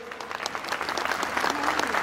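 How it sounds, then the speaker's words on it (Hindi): Audience applause for children after a stage play about the life and works of Ratan Tata, steady dense clapping filling the hall, moderately loud and building slightly over its two seconds. "एक बार जोरदार तालियां इन बच्चों के लिए।"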